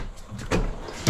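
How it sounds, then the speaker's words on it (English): A drawer in a fifth wheel trailer kitchen slides open with a short rumbling bump, followed by a second quick knock, close and brief. "You got a couple drawers here."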